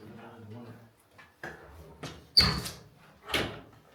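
A door in an abandoned care home knocks and scrapes in several short bursts, one with a sharp squeak, amid faint voices and footsteps nearby.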